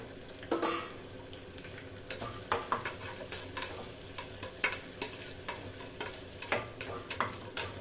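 Ginger and garlic fry in a pan for a banana-flower biryani while a spoon stirs and scrapes them, giving soft sizzling under a series of sharp metallic clinks and taps, close and fairly quiet, with no talk.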